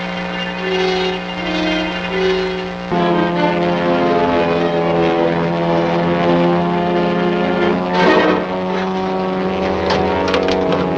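A propeller airplane drones steadily and loudly throughout, its engine tone shifting slightly partway through, with no talk over it.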